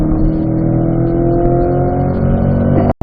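A C8 Corvette engine pulls hard in fifth gear on a track at an owners' driving school, a loud, steady, rising engine note heard from inside the car that cuts off abruptly at the end.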